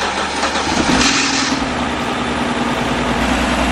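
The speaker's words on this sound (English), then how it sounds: "So now we're just gonna go ahead and turn on the car and see what's going on." A salvaged 2011 BMW E92 M-Sport turns over and catches, then settles into a loud, close, steady idle with a slightly uneven rumble and no talking.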